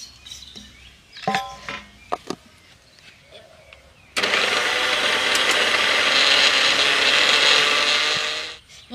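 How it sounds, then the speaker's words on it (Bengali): An electric mixer grinder grinding spices into fine powder starts abruptly after a few clicks and handling knocks, then runs as a loud, steady whirring roar for several seconds before winding down. "মিক্সিতে ঘুরিয়ে নিয়েছি,"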